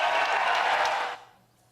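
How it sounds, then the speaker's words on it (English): A town-hall audience bursts into a short, dense round of clapping that holds steady for about a second and then fades out quickly. "Clap. We got to hear you."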